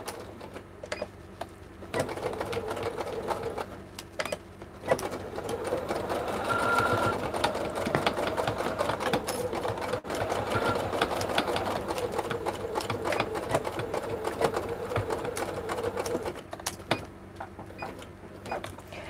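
A sewing machine runs slowly, topstitching through the bulky layers of a coin purse with the needle left down, humming in steady close bursts separated by brief pauses, with no speech over it.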